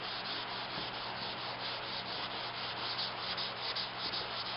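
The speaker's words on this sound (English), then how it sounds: "Any imperfections in the layout will come right out just by the 180 grit that I'm sanding it with" Steady, continuous abrasive scraping of 180-grit sandpaper worked by hand over a plastic car bumper, even and unbroken with a faint hiss throughout.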